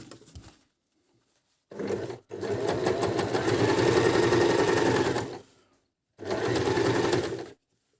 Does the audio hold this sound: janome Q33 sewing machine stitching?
yes